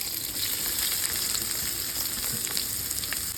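Onion and green chillies sizzle in hot oil in a pan, a steady, dense, close frying hiss that holds evenly throughout with no voices.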